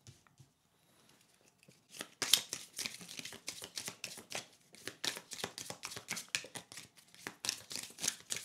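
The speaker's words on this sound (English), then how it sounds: "Let me give it a quick shuffle here." Tarot cards are shuffled close by, a quick run of soft riffling and slapping strokes in an uneven rhythm, faint at first and then a steady series of crisp card flicks.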